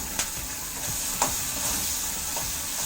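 Green chillies and garlic frying with a little salt in a pan for Maharashtrian thecha, a continuous oily sizzle broken by a few sharp scrapes and clicks from stirring.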